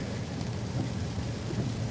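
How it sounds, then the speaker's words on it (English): Heavy rain pours steadily in a dense, even hiss, with a low rumbling undertone and no voices, during hours of nonstop storm rain with flooding. "It's been raining straight for 5 hours like this."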